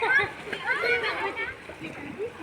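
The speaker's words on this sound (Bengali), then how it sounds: "ছোট ছোট বাচ্চারা নদীতে লাফালাফি করছে।" Small children splash and jump in a river, with bursts of splashing and sloshing water under lively kids' voices and chatter close by.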